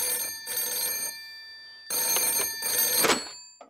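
An old-fashioned bell telephone rings in a cartoon, two bright trilling bursts separated by a short pause, loud and close, then cut off.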